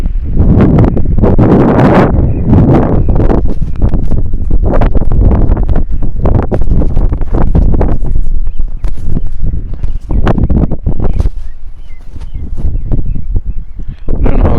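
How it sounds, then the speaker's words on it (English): Strong gusty wind buffeting a microphone outdoors, loud continuous rumbling and crackling thumps with no break throughout. "the wind has started again"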